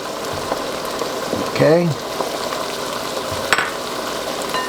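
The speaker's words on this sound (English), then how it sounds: "Time has come to throw in the onions." Onions thrown into a hot pan for lasagna sauce, with garlic added, give a steady frying sizzle that swells briefly as they land, under a short spoken word.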